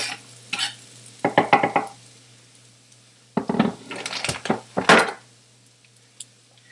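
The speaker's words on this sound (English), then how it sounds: "I'm going to grab a wooden spoon to protect the pan, and I'm going to just give a quick stir of the onions" Chopped onions in hot oil in a pan are stirred with a wooden spoon, making bursts of close, quick knocking and scraping strokes with quiet gaps between them.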